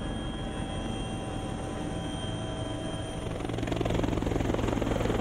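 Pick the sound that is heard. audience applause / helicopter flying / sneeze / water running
helicopter flying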